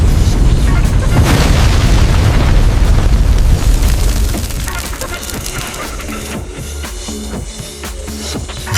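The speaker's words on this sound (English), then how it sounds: "The explosion caused by Marcus wiped out everything within a 2-mile radius." A loud, deep explosion booms and rumbles with a roaring blast that fades after a few seconds into scattered crackling debris and lower rumble.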